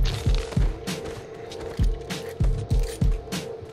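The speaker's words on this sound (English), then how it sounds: "I'll just kill you guys just because you're shooting me" Gunfire in the Saints Row IV video game: a string of sharp, punchy shots in a loose rhythm, about eight bursts over a few seconds, over a steady low hum.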